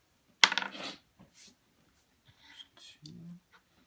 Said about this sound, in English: Alright, I'm going to roll the dice.